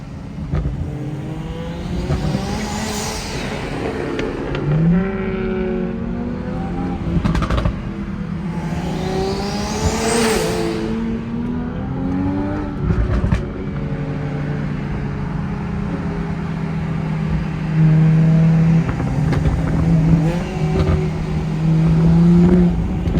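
A 700 WHP turbocharged Toyota Supra accelerates hard in a loud, continuous pull, with engine pitch climbing and dropping through repeated gear changes and turbo whoosh between shifts, heard from inside the car without talk.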